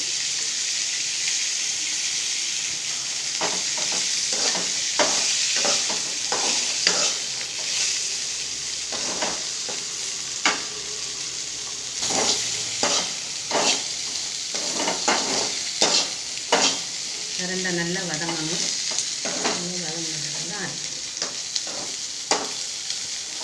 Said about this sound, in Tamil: கொஞ்சமாக எண்ணெய் சேர்த்து ரெண்டையும் நல்லா வதக்கி